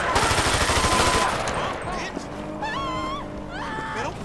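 A Draco firing in GTA 5 sounds as a fast, loud burst of automatic shots, followed by tonal game sounds and background noise.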